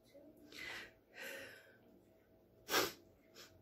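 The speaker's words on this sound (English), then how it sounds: "I keep getting interrupted by my sneezes." Several sharp sneezes burst out in a quiet room, two softer ones close together followed by a louder, sharper sneeze and a final lighter one, with breathy sounds between.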